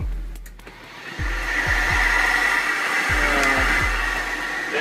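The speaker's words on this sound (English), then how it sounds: "We'd heard of a technique called vacuum forming, and decided to give it a try." A vacuum motor runs loud and close with a steady whining roar while cardboard shapes are vacuum formed, and low thumps and knocks sound beneath it.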